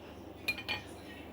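A lid set onto a pot of fish soup gives two quick metallic clinks over a faint steady background hum.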